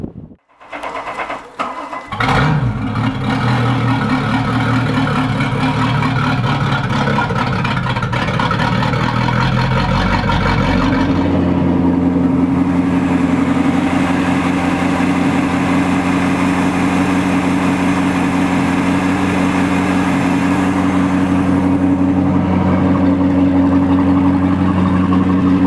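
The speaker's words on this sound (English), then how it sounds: "then you should be good to go to start the engine" A Volvo Penta inboard/outboard engine on a 22-foot Larson boat cranks briefly, catches and settles into a loud, steady idle that hums on without a break.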